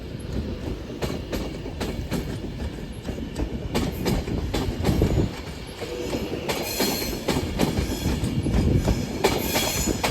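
Class 390 Pendolino 390045 departing Carlisle station toward Glasgow Central, a steady rumble of a passing train with rhythmic wheel clatter over rail joints and occasional squeals, moderately close and growing slightly louder.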